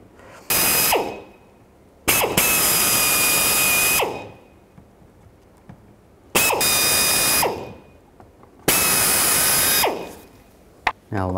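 Power drill boring rivet holes in the front bumper of a 2010-2017 Chevrolet Equinox, four loud whining bursts of about two seconds each, separated by short pauses.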